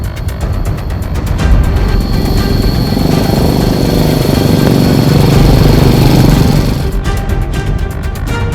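A motorcycle rides over winding, steep hill roads, its engine droning loud and close in a continuous rough rumble that swells in the middle and eases off toward the end.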